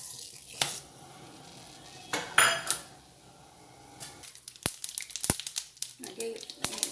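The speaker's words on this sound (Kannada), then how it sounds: "ಹಾಗೆ ಸ್ವಲ್ಪ ಸಾಸಿವೆ ಹಾಕೋಣ ಈಗ" Mustard seeds dropped into a hot pan for Kannada avarekalu soppu saru, following cloves and cinnamon, give sharp scattered crackles and pops in the latter half after some clattering of utensils, with kitchen background and no talk over the pops.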